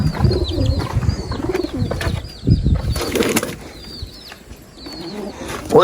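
Pigeons coo in low, repeated murmurs, with bursts of wing flapping and scattered chirps close by.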